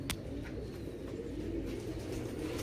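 Pigeons of a fancy breeding flock coo softly and continuously against steady low background noise, with no talk over them.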